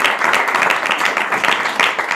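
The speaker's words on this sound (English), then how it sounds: "So please let's give a big round of applause." Dense, steady audience applause fills the space at a Sri Rama Navami festival gathering after a devotional performance, loud and continuous with no break.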